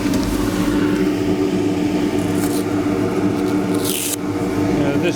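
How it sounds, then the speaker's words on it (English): A Vicmark rotary sander works a wooden tray spinning on a lathe, giving a continuous close whirring hum with a rough scraping texture and a short brighter hiss near the end. "I'm going to finish this off with a rotary sander"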